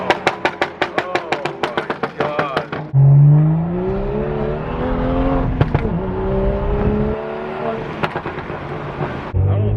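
A BMW 335i engine revs in sharp rhythmic bursts, then swells into a loud sustained roar while driving, with the engine note rising and falling and a voice talking over it.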